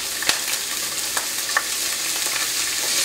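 Diced uncured pancetta hits hot oil in a pan, giving a bright, close, continuous sizzle punctuated by a few sharp stirring clicks over about three seconds.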